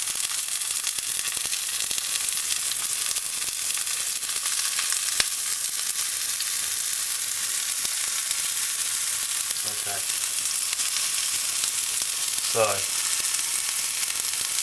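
Porcini mushrooms sizzle and fry in olive oil in a pan, a steady close crackle running throughout, with someone briefly talking over it.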